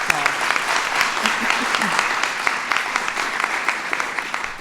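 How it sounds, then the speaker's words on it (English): Sustained applause from an audience at a First Lady's health insurance reform event, dense and fairly loud, with a brief murmur of voices early on. "let's give her a round of applause."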